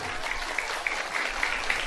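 A crowd of women at a religious lecture claps together in a dense, steady burst of applause, with scattered sharper hand claps standing out.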